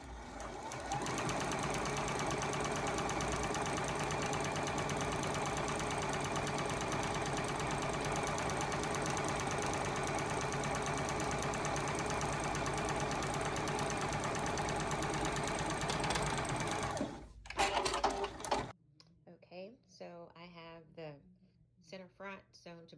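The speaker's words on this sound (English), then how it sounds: "I'm going to begin the stay stitching." A sewing machine runs continuously and close by while stay stitching fabric, a steady mechanical whir for about seventeen seconds that stops abruptly, followed by a person talking.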